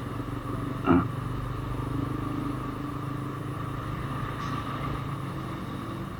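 Motorcycle engines drone steadily in busy road traffic alongside trucks, with a brief clatter near the start and a constant hum of vehicles passing.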